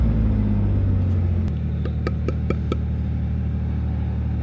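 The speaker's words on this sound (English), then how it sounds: "If I just kind of give it gas, it tries to die. It chokes out." Idling car engine given a little gas, revving briefly before the revs drop and it chokes, sputtering with a few sharp knocks as it tries to die, close and steady.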